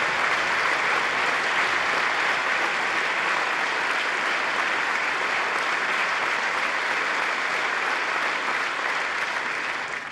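Sustained applause from a large audience in the United States Congress during a Benjamin Netanyahu speech, a dense, even wash of clapping that holds steady throughout without any voices.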